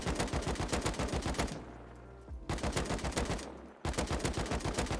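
An automatic weapon in the video game Rust is sprayed in rapid, loud bursts, with two short pauses before the rattling fire resumes.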